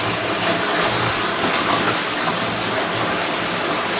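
A bath fills with steady gushing water as a whole bag of Epsom salt is poured in, a continuous broad rushing wash at close range with no voices.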